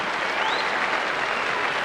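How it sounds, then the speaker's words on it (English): A crowd at the Melbourne Cricket Ground gives a steady round of applause at a 1981 Pakistan vs West Indies cricket match, a dense, even wash of clapping with no breaks. "a very generous round of applause from this crowd at the Melbourne Cricket Ground"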